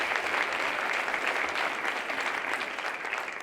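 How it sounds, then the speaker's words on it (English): An audience at a city's State of the City address claps steadily. The applause is dense and even and holds throughout, with no voices over it. "Round of applause."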